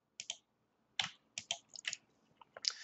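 A computer mouse clicks several times in a quiet room, sharp separate taps in a loose irregular run with short pauses between them, close and fairly soft.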